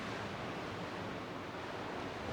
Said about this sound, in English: And you can still hear the ocean